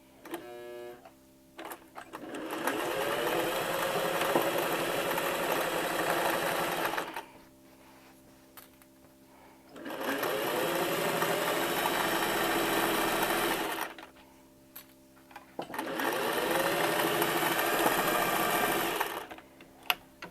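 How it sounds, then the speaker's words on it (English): A sewing machine stitches straight across a large piece of jean fabric for a tote bag in three steady whirring runs of several seconds each, with brief quiet pauses between them, close and clear. "Go to the bottom down here and sew straight across."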